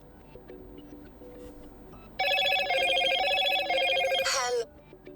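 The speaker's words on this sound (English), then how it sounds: "I have lifted my phone to mute the call that has been calling to me and ringing" A Motorola Moto G56 5G smartphone rings with an incoming call, a loud bright electronic ringtone bursting in and playing for about two seconds before cutting off abruptly, after softer tones beforehand.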